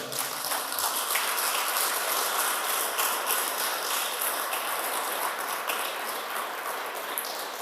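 A congregation applauds for the Lord during a church service, a steady, dense wash of clapping that fills the whole stretch at an even level with no talk over it.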